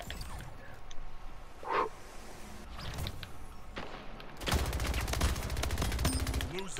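Rifle fire in the video game Splitgate, with a few scattered shots followed by a sustained rapid burst emptying a magazine. The shots sound close and fairly loud.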